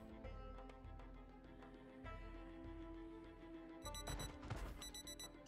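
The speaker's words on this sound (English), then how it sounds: "One of the watches has an alarm." A wristwatch alarm in the video game Project Zomboid, a steady electronic beeping over a tonal game-music bed that turns into louder rapid chirping bursts near the end, with no talk.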